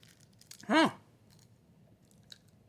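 Close-up crunching of a dry, chewy meat snack stick, with faint clicks and a brief voiced murmur in the middle.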